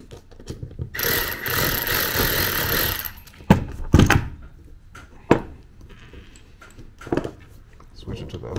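A ratchet works a bolt on a turbo wastegate of a turbocharged BMW E36, giving a dense burst of close clicking followed by a few sharp knocks and clanks, with someone speaking over it.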